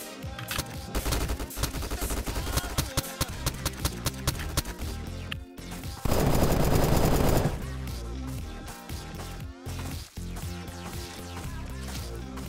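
Rapid gunfire bursts in the online survival shooter Apocalypse Rising 2, dense volleys of shots repeating throughout with one sustained loud stretch midway, layered over game music and effects.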